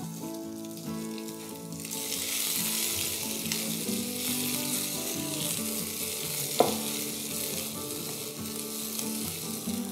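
Garlic, capsicum and onion frying in butter make a steady, moderately loud sizzle that runs the whole time. A single sharp clink or scrape of stirring cuts in partway through.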